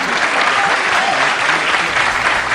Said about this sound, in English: you can applaud that, absolutely.